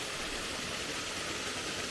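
A waterfall and creek along the Rhododendron Trail rush in a steady, dense wash of water noise, constant and fairly close with no other sounds.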